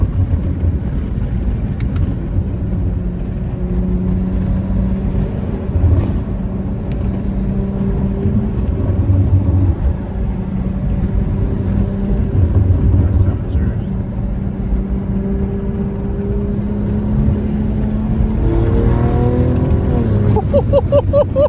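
A BMW engine with carbon exhaust rumbles steadily close by, then revs up near the end with a rising, throaty exhaust note, over continuous road and wind noise.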